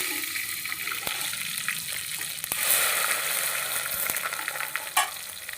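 Chopped onion dropped into hot oil for a green chickpea curry, a steady crackling sizzle with occasional sharp pops and a louder surge partway through.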